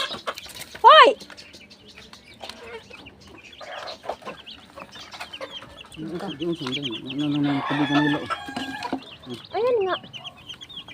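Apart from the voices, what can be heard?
chickens clucking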